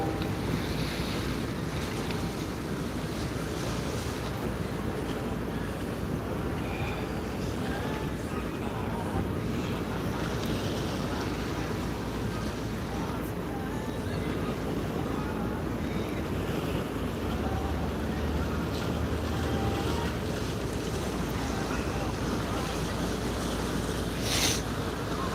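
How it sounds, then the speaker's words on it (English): A long-tail boat ferry on a river in Bangkok, heard as a constant rushing roar of wind and water with a low engine drone underneath, steady throughout. "And there's another long tail boat or ferry right now."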